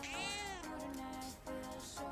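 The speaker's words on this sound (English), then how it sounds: "Cat sitting very still with half-closed eyes. Meow." A cat meows in Persona 3 Reload: a drawn-out, rising-then-falling meow, followed by a couple of shorter, softer mews, heard clearly and alone.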